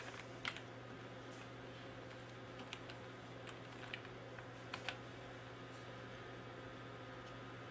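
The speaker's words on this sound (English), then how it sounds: "it's now going to ask me to type in a series of numbers here on the keyboard" Numbers typed on a wireless Bluetooth keyboard paired to a Hackintosh: soft, quiet, irregular key taps spread across the moment over a steady low electrical hum.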